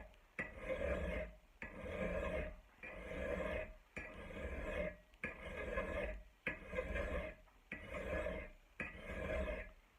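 A hand file rasps along the edge of an axe head in about eight steady, evenly spaced strokes, each a close, gritty scrape with a short pause between passes.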